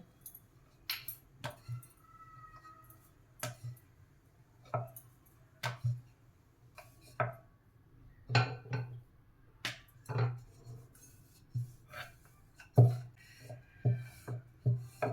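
Bhatura dough gets rolled out with a rolling pin on an oiled board: a steady low rumble of rolling broken by repeated light wooden knocks and clacks at irregular intervals, close and fairly quiet.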